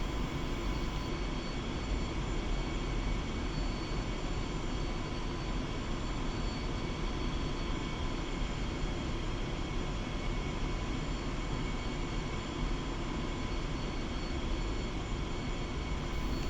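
A Su-25 jet taxies in the DCS World flight simulator, its engine a steady, unbroken whine and rumble that holds at a constant level for the whole stretch.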